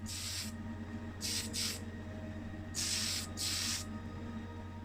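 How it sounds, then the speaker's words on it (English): Aerosol can of Tamiya fine surface primer in white sprayed in short hissing bursts over a small die-cast Matchbox Vauxhall Victor model car, with four or five separate puffs against a steady low hum. "I'm using the Tamiya fine surface primer in white, just a single coat over this one"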